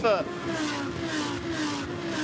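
Race cars running on the Brands Hatch circuit during a GT World Challenge Europe race, a steady engine drone with a brief rising pass at the start, heard under continuous commentary.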